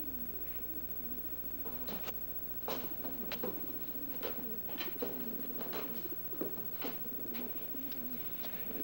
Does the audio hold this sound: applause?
no